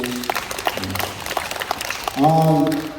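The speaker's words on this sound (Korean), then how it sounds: "큰 박수 한번 주세요" Audience applause fills a hall at a Korean kidney disability association gathering in Gimje, a steady patter of many hands that continues as a sustained tone swells in over the last second.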